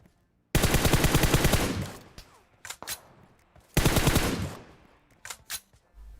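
Rapid automatic gunfire in PUBG Mobile near a tent, two loud sustained bursts separated by scattered single shots and fainter distant pops.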